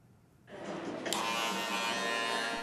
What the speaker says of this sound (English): Inside barbershops, there are all kinds of sounds.